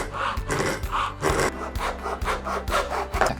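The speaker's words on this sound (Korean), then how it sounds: "톱을 이용해서 재단을 한번 해볼게요." A hand saw cuts a clamped piece of scrap wood. About a dozen rhythmic back-and-forth strokes rasp close and loud, each one a distinct scraping burst, with no speech.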